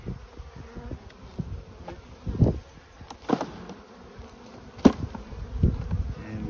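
Honey bees buzz around a brood frame, a steady low hum with individual bees droning close past in louder swells every second or so.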